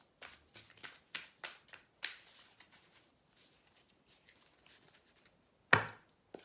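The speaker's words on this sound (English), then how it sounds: "Give me 2 more shuffles." A deck of tarot cards is shuffled by hand in a series of short, sharp slapping riffles, close and quiet, with gaps of near silence and one louder snap near the end.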